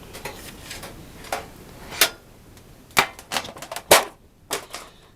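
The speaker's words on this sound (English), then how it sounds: "There's going to be a lot of background noise here with all these tins rattling around." Metal tins of Derwent Studio colour pencils rattle and clank, giving sharp metallic knocks and clatters in uneven clusters, close to the microphone with no speech.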